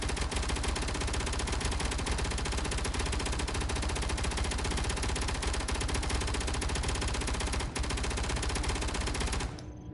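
Sustained, loud automatic gunfire in a video game as animals are shot, a dense unbroken stream of rapid rounds running nearly the whole time before cutting off abruptly at the end.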